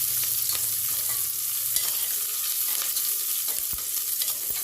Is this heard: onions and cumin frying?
yes